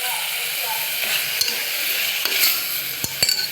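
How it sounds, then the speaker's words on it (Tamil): Drumstick pieces fry with turmeric in a pan for a potato and drumstick paya, a constant close sizzle broken by a few sharp scrapes and clinks of a spoon stirring. "மஞ்சத்தூள் சேர்த்து இதை கலந்து விட்டுறலாம்"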